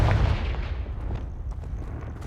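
The Confringo fire spell in the video game Hogwarts Legacy bursts as a loud, deep boom, then fades into a rumbling tail broken by a few lighter crackles and thuds.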